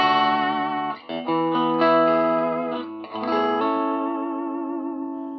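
Electric guitar through a Marshall DSL1CR amp at a low gain setting, playing sustained chords with a slight crunch, ringing out alone with a reverberant tail.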